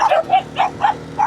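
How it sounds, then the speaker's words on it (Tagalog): Dogs barking along the Mount Ugo mountain trail, five quick barks in a steady rhythm, fairly close and clear. "Ang dami aso."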